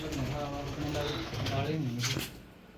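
Soft, rolling coos from pigeons repeat close by, overlapping a voice talking throughout.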